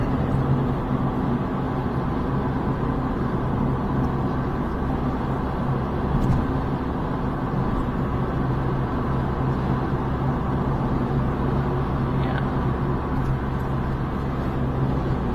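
An automatic car driving along a road, heard from inside as a steady low engine and road rumble that holds constant and unbroken throughout.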